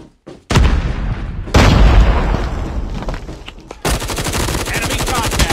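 Loud, close gunfire and explosions from a Hardpoint match in COD Mobile: a frag grenade burst, then sustained rapid automatic fire in several sharp bursts.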